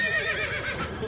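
A horse whinnies at a beach plaza in Puerto Vallarta, Mexico: a short, close, loud neigh over steady outdoor noise.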